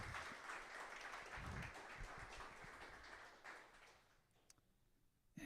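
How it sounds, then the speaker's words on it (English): Audience applause after a developer talk on AI, a steady burst of clapping that gradually thins and fades out near the end. "Let's give Ram a round of applause"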